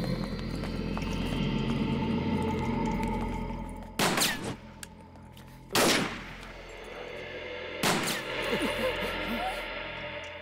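Three sharp gunshots in an action movie ring out a couple of seconds apart over a steady outdoor rumble, with faint hoofbeats and voices in the background.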